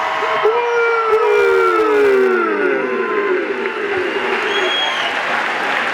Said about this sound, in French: Et 5000 personnes, ça applaudit